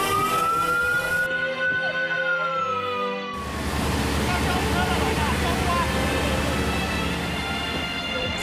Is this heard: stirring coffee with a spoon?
no